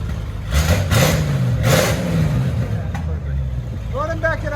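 A 1952 Chevy Styline V8 with headers and glass pack mufflers revving up close, a deep loud rumble that surges twice and then settles, with voices talking over it near the end.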